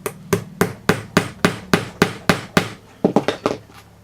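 A hammer drives a nail into wood with about fourteen sharp, evenly paced strikes, ending in a quicker burst of lighter taps, close and loud with no talking.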